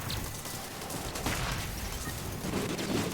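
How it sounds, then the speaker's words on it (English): Rapid tank gunfire and explosions from the TerraTech video game, a loud, dense continuous barrage of shots and blasts throughout with no talking. "More explosions."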